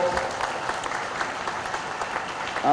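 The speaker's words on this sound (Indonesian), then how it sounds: "Tepuk tangan untuk Inla Solo." Audience applause for Inla Solo at a school parents' day gathering, a dense, steady wash of many hands clapping together that holds evenly for the whole stretch with no voices over it.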